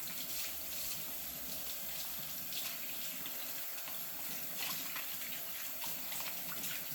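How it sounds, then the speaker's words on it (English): Tap water runs steadily from a faucet while hands are washed in a home kitchen, a continuous close hiss and splash with no speech. "Now wash those hands, get them good and clean."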